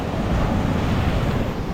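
Ocean waves roll onto Igboshore beach in Ogun State, a steady broadband roar of surf mixed with wind buffeting the microphone, continuous throughout with no voices.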